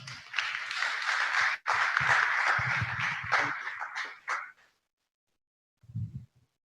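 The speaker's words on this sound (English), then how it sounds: "Thank you for applauding Mrs. Suduma" A conference audience at the Nigeria Internet Governance Forum 2019 breaks into loud, sustained applause for about four and a half seconds, then it cuts off to near silence, broken by one brief low thump.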